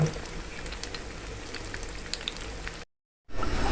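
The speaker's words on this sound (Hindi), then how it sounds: "हमने ये अपने कटलेट जो बाकी थे अपने फ्राई पैन में डाल दिए। माशाल्लाह अच्छे से फ्राई हो रहे हैं।" Potato cutlets sizzle in oil in a frying pan, a steady close crackle with scattered pops, broken by a short silent gap before the sizzling resumes.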